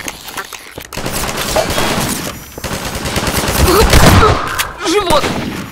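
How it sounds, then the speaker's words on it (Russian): Gunfire crackles along a street in a video game, with repeated sharp shots and bursts of fire building into a dense barrage alongside mixed game sounds and booms. "Улицу обстреливает снайпер."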